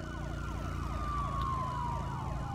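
Police car sirens wail continuously in the video game Road Rage, a steady rising-and-falling tone over low engine hum, moderately loud with no talk.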